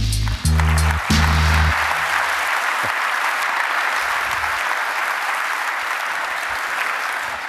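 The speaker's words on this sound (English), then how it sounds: "Give a round of applause for Herb Sutter." A conference audience applauds Herb Sutter at a Qt World Summit talk on modern C++: a full, sustained wash of clapping from a large crowd, loud and steady throughout, with a few brief low thumps near the start.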